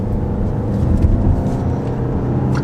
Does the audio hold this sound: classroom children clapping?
no